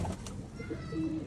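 A Sialkoti pigeon gives a brief, soft coo, fairly close and fairly quiet, with faint background noise around it.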